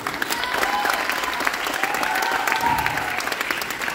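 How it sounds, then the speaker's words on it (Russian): A theatre audience applauds at a jubilee performance of a Chekhov play in a Nalchik drama theatre, steady dense clapping with a few faint voices and tones mixed beneath it. "И ваши аплодисменты."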